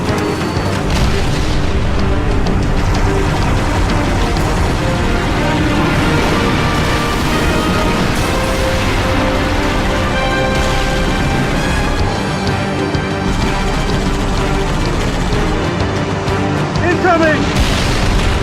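A detonated pylon in the Halo Reach video game, a dense continuous roar of rumbling blast and debris noise, loud and sustained throughout, with game sound layered over it.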